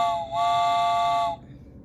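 A steady, bright two-tone whistle sounds for about a second, dips briefly and resumes, then cuts off, like a train whistle, with no talking.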